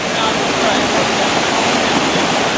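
A strong river current that carries big stones downstream rushes past in a loud, steady roar of churning water, close by and unbroken throughout.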